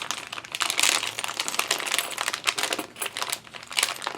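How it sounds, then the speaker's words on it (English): Plastic packaging of Dollar Tree button pieces crinkles continuously up close, with dense crackling bursts swelling and fading throughout and no voice over it. "I'm sorry about the crinkling"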